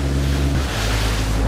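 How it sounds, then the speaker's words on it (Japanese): Small boat crossing the wake of a passing jetfoil at sea, the hull bumping over waves with a loud, close rush of water and wind noise under a deep engine drone. "じゃあ波が来ますよ。 波が"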